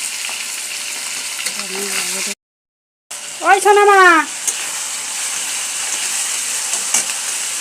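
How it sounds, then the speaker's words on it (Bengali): A small katla fish fries in a pan with a steady broadband sizzle throughout, briefly cut by a gap, while a voice speaks over it and a higher melodic voice or tone rises near the middle. "মাছটা ভাজা হচ্ছে, একটা কাদলা মাছ, ছোটো বাচ্চা।"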